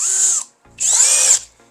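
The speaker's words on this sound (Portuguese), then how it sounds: "Essa broca não tá com um corte muito bom, mas acho que ela vai furar mesmo assim." A FortG brushless drill driver with a thick bit bores into wood in two loud, high whining bursts separated by a short pause, heard up close.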